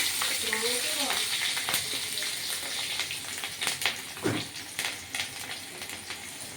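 Bay leaf with dried and fresh chillies frying in hot oil for an Assamese fish curry, a close, crackling sizzle with scattered sharp pops and spits that continues steadily throughout.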